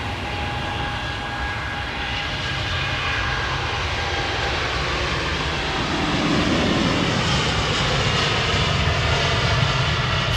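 A Boeing Dreamliner jet roars along the runway at Heathrow on a long takeoff run, a loud, continuous engine rumble that swells toward the end.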